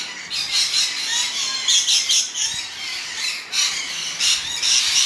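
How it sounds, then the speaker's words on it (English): Rainbow lorikeets squawking in a park, a dense, continuous chorus of shrill, overlapping calls that rises and falls in bursts throughout, fairly near and loud with no talking. "in here we've got a lot of rainbow lorikeets"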